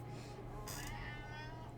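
A cat gives one short, faint meow partway through, against a quiet room with a low steady hum.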